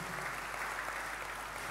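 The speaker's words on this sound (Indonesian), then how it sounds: "beri tepuk tangan yang meriah" A church congregation claps together, a dense, even wash of applause that sounds fairly distant and soft, steady for the whole short stretch.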